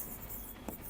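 Pen scratching briefly on paper as a chemistry half-reaction is written out by hand, faint and close, with one short stroke standing out.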